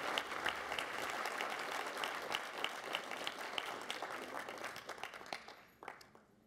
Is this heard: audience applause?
yes